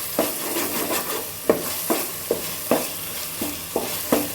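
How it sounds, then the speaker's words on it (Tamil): Ginger, garlic and onion fry in hot oil for chicken biryani with a steady sizzle, broken by repeated scraping strokes of a spoon stirring the pan at a roughly even rhythm, close and clear. "அந்த எண்ணெயிலே இந்த இஞ்சி பூண்டு வந்து வேகும், வெங்காயமும் வெந்துக்கிட்டு"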